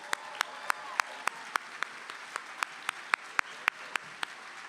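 An audience claps after a student performance at a foundation luncheon, a steady wash of applause broken by sharp, regular louder claps near the microphone, moderately loud and unbroken throughout.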